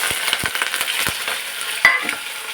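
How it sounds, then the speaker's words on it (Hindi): Chopped onion drops into hot oil with dried chillies, coriander and cumin. A loud close sizzle follows with a few sharp clinks and stirring taps. "अब डालूंगी मैं इसमें प्याज"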